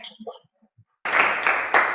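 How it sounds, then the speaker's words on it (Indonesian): Classroom applause bursts in suddenly after a few faint, quiet voice fragments, then carries on as a dense, steady clatter of clapping with a couple of stronger surges. "Tepuk tangan dulu."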